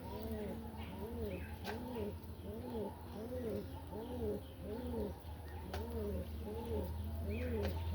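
Pigeons coo close by in a steady, repeating rhythm, one soft rolling call following another over a low background hum.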